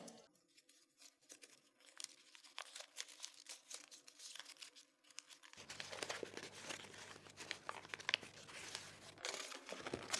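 A folded paper dog being unfolded, with dense crinkling and crumpling of paper throughout, growing louder and fuller in the second half with continuous rustling and tearing-like crackles close by.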